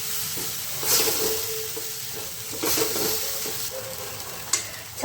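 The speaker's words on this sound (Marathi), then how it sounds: "जो मुगडाळ आहे ते थोडेसे परतून घेते" Moong dal sautéing in a nearly dry pan with very little oil, giving a steady close sizzle with soft stirring scrapes and a few louder bursts of hiss.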